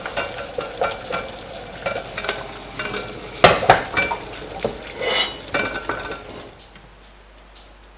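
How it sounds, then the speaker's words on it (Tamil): Gulab jamun made from khova deep-frying in oil over a low flame, with soft continuous sizzling broken by spoon stirring and clinks of utensils against the pan, close and without speech. "இந்த பக்கம் ஜம்முனை பொரிச்சு எடுக்கலாம்."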